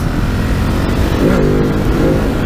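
A 2019 Ducati Hypermotard 950 motorcycle engine, loud and close, running at a steady growl with a rising rev swell in the middle before settling back.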